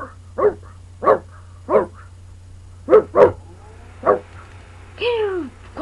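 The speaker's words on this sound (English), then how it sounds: "Can you quiet your dog, please?" Cartoon dog barking in a rapid series of sharp, close, loud yaps, about eight barks over several seconds, ending with a drawn-out whining howl.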